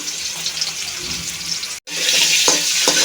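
Potatoes and carrots fry together in mustard oil, giving a dense close sizzle with a few stirring knocks. After a brief cut, the hiss returns louder.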